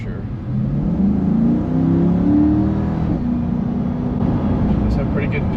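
A Chevrolet Corvette C8 engine accelerating, heard from inside as a deep rising drone that climbs in pitch, drops at a gear change, then pulls on, with a voice speaking over it.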